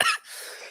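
A single short cough, close and fairly loud, from an adult with a cough, followed by a faint breathy tail and quiet room tone.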